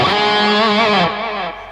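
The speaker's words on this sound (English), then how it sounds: "So here's the same preset with a drive pedal on." An electric guitar played through a drive pedal, with a distorted, overdriven tone, plays a sustained, slightly wavering chord that rings out and then drops in level.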